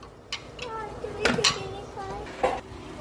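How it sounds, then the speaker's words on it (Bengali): A spoon clinks against a cup while sugar is added to rose tea, a few light close metallic taps and scrapes over quiet background. "আমি খুব বেশি একটা সুগার খাই না, এই জন্য 1 চামচ চিনি দিচ্ছি।"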